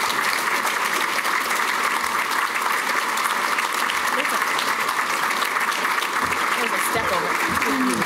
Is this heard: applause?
yes